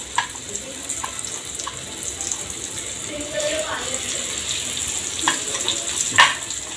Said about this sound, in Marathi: इथे मी सुरमई रवा फ्राय करून घेते.